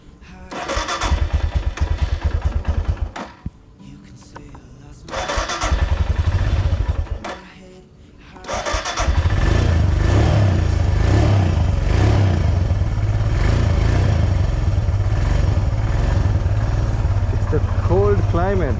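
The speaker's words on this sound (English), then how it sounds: "you need to start your bike and keep it for at least a minute or two so that it will get a little bit heated" Motorbike engine starting on a cold morning in Sri Lanka's hill country and settling into a loud, steady idle to warm up, with a couple of short revving bursts before the continuous running.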